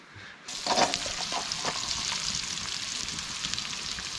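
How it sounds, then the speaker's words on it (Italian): Food hits a hot pan and breaks into a bright, crackling sizzle that then settles into steady frying, close and continuous. "Friggere."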